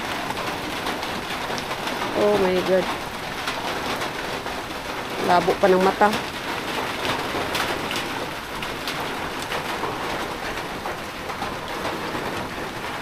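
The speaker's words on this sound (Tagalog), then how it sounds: "So, ganyan ang lakas ng ulan." Heavy rain pours steadily with a dense, hissing roar throughout, while a person briefly exclaims and speaks over it.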